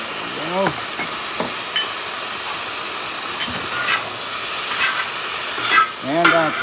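Moo goo gai pan stir-frying in a cowboy wok, a close hissing sizzle broken by irregular scraping stirs and bursts of steam, with a brief voice sounding near the start and end.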